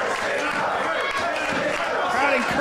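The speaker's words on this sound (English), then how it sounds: "Crowd encouraging Jessica James." A wrestling crowd roars and shouts encouragement for Jessica James during a match, a dense, continuous wash of cheering voices with no clear breaks.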